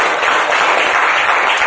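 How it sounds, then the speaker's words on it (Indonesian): An audience claps throughout a seminar on selling Prudential insurance, continuous applause of moderate loudness with no breaks or speech. "Tepuk tangan dong."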